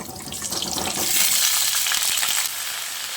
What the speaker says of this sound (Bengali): এবার আমি কেটে রাখা আলুগুলো দিয়ে ভেজে নেব।